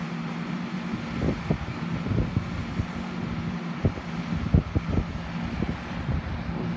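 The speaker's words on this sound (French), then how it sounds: "il y a du vent" Wind blowing outdoors where pigeons fly high, giving a steady broadband rush with gusty rumbles and buffeting throughout, fairly close and with no talk.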